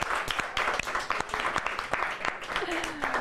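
A studio crowd claps steadily for a grandmother, with dense, continuous applause at even loudness and a voice speaking briefly beneath it.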